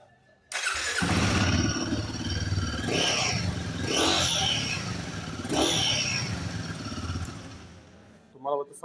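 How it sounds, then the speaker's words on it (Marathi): A Royal Enfield Guerrilla 450 motorcycle starts up and runs, a loud engine rumble with a few rising revs, close by, continuing for several seconds before fading near the end. "तुम्हाला मी आता गाडीचा साऊंड ऐकवतो."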